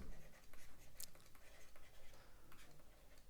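Chalk or marker strokes scratching on a classroom board during an English grammar lecture, soft and fairly close, a few short scraping bursts over a low room background.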